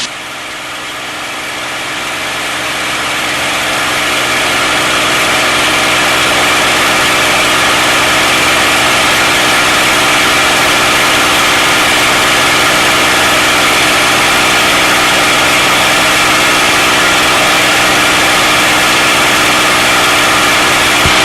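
The engine of a P-51 Mustang fighter aircraft roars at a constant loud, even pitch during a climb. It swells over the first few seconds and then holds as a dense, unbroken drone.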